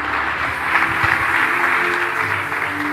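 A church congregation applauds together in steady, dense clapping that carries on evenly for the whole stretch, fairly loud and filling the room.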